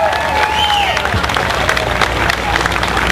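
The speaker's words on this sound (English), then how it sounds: "a nice big round of applause for New Hampshire's son, Captain Christopher Hill" An audience at a Tea Party Express event in Manchester, New Hampshire applauds and cheers for Captain Christopher Hill, steady dense clapping filling the hall with voices mixed in.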